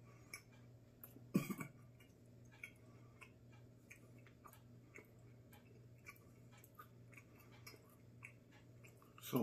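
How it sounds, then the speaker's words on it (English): Someone chews tough jerky close to the mic, with soft irregular bites and squishes plus a few sharper clicks and one louder crunch, all quiet over a low steady hum and no speech. "So much chewing."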